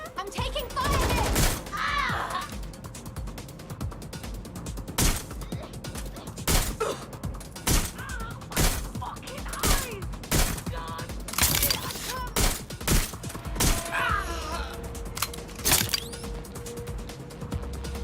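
Gunfire in the video game Watch Dogs Legion: a steady series of loud, sharp shots spaced about a second apart over a busy mechanical clatter, with a voice heard now and then.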